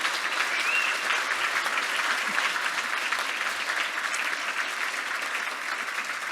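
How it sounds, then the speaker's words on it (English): An audience claps in a steady, continuous round of applause at an event, moderately loud and even throughout, with no talking on top. "I think we should give you a round of applause for that"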